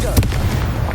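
A Confringo blast spell in Hogwarts Legacy gives a short, sharp burst like a fiery crack over a low rumbling background, with a speaking voice overlapping the moment.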